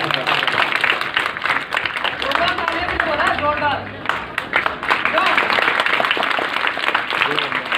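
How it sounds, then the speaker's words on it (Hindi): Audience applause at a school conference in Pritampuri, a crowd clapping steadily in a hall while a speaker's amplified voice carries over it, with general murmur underneath. "इस विद्यालय के लिए जोरदार तालियां बनती हैं एक बार आपके पास"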